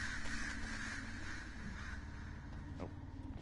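Crows cawing as demonic birds in the video game Night in the Woods, a harsh layered cawing held steadily over a dense, continuous game soundscape with a low hum beneath.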